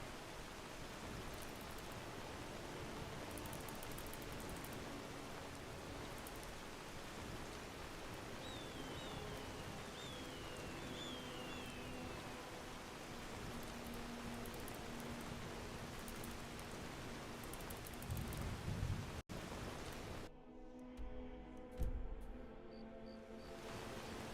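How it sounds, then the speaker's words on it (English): Rain in The Elder Scrolls V: Skyrim, a steady soft hiss of falling drops throughout, faint and even, with a few distant bird chirps and a short muffled bump near the end. "this rain sounds fantastic"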